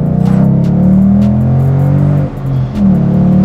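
Ford Mustang V8 engine revving hard up close, a deep, loud, sustained roar with a brief dip in pitch mid-way before climbing again, with no talk over it.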